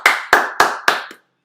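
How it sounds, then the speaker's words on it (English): A single person claps four times at an even pace during live commentary of a Waikato versus Bay of Plenty rugby match. The claps are sharp and close, and the fourth trails off into silence. "Stand up and applaud."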